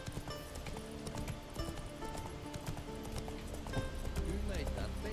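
Roach the horse gallops in The Witcher 3, a steady, rhythmic clip-clop of hooves heard faintly at a distance, with an occasional whinny and someone talking over it.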